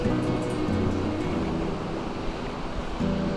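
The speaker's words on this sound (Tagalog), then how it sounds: "Itong part na to, medyo malakas ang alon." Ocean waves crash and wash continuously on a beach of sand and small stones in South Batan, Batanes, a loud, roaring surf with no voices.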